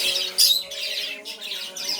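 Lovebirds in a home aviary give short, bright chirps in a few separate bursts, fairly close, over a faint steady background hum.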